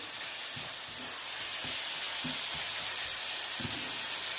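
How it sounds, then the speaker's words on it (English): Minced beef browns in olive oil in a pan for chilli con carne, a steady close sizzle and hiss with a few soft scraping stirs. "that mince now is starting to brown nicely"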